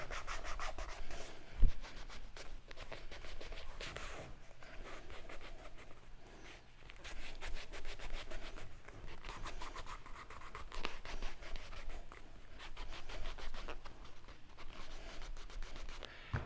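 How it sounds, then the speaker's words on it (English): Dyed leather edges on a saddle swell bag being burnished with beeswaxed canvas: close, rapid back-and-forth rubbing strokes with a brisk scratchy friction, continuing steadily with a brief knock near the start. "use our canvas with a little bit of beeswax on it, and we're going to go ahead and burnish the edges"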